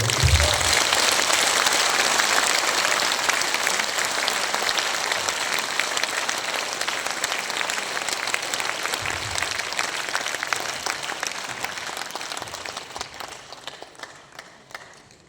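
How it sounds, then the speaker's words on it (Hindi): An audience at a large indoor gathering breaks into sustained, dense applause that carries on for about fifteen seconds, loud and even at first, then slowly thinning toward the end. "दोनों हाथ ऊपर करके एक बार ताली भी दे दो"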